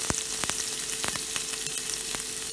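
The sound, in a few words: mustard, fenugreek, cumin seeds and chili sizzling in oil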